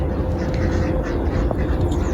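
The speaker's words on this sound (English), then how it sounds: "And chickens and ducks and geese, and you can hear the cockerel." Ducks quacking amid a busy, noisy farmyard, with chickens, geese and a cockerel faintly mixed in the steady background clamor.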